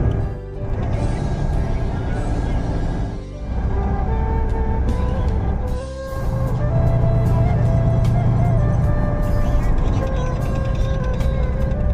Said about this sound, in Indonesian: sangat nyaman di dalam kabin bus Al Hijrah Volvo B11R